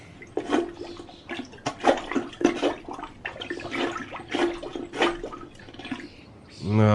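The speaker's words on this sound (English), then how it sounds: "Let me just get my plunger." A plunger working a clogged toilet with a series of wet, sucking and splashing thrusts at irregular intervals, ending in a flush-like gurgle of water.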